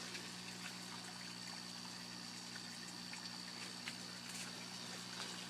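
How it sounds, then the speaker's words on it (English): Water pumps running in aquaponics trout tanks buried underground, a steady low mechanical hum with constant trickling water over it, unchanging throughout and fairly quiet. "I'm going to turn off these pumps here."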